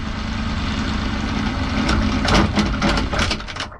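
A boat's motor runs with a steady low engine drone and grinding, rising into rough, irregular clattering bursts toward the end, close and loud with no talk.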